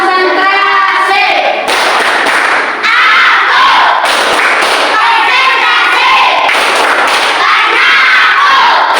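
A group of children loudly doing a rhythmic concentration clap together, with thumping claps and shouted chanting voices in a noisy classroom crowd.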